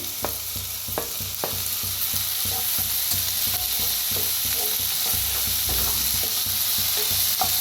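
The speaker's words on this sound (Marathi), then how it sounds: "कांदा चांगला भाजतला आहे, आता ह्याच्यातच टाकूया टमाटर बी" Chopped onion and tomato sizzle in a hot pan while being prepared for a dry dingri (radish pod) dish, a steady close frying hiss punctuated by sharp knocks and scrapes of a stirring spoon against the pan.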